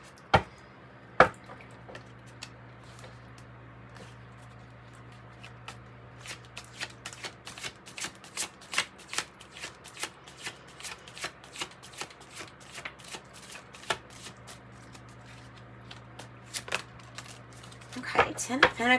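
Tarot cards being shuffled in a series of quick riffling and slapping bursts that grow busier toward the end, with a steady low hum beneath.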